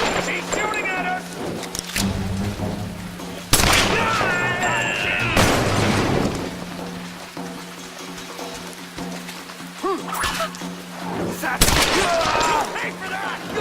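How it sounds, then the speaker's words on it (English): Gunfire in the Tomb Raider 2013 video game, with sharp shots among rain and ambient noise, while characters shout and talk throughout. "She's shooting at us!"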